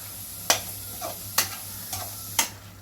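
Chicken frying in oil for a Tamil-style chicken gravy, stirred in the pan: a steady low sizzle broken by three sharp utensil scrapes and clinks at roughly one-second intervals, close and fairly loud.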